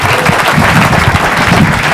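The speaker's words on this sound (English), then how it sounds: "A nice round of applause, Mr. Bob Lazarus." A comedy club audience breaks into a round of applause for a comedian taking the stage in 1987, with dense, steady clapping filling the room at close range for the whole stretch.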